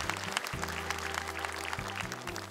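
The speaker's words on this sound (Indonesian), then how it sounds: "Boleh tepuk tangan untuk mereka." A studio audience claps for young children reciting memorized Quran chapters on a televised hafiz competition, Hafiz Indonesia 2025. The applause is dense and steady throughout, over a low sustained musical tone.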